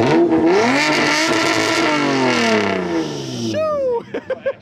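A Volkswagen Jetta engine on two-step launch control revs hard and loud, holding a sustained roaring drone before cutting off into a series of sharp popping bursts as the revs drop.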